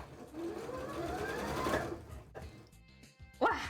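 A sewing machine stitching fabric for a Pokemon cosplay, a steady mechanical whir of about two seconds at moderate volume, followed by a brief pause and a short second burst.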